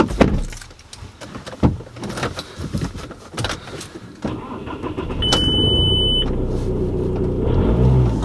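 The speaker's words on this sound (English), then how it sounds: "Let's start this thing up." A used car with a full leather interior in good condition starts up: an engine cranks and catches, then settles into a steady, fairly loud idle rumble with a faint whine, following some door and interior clatter.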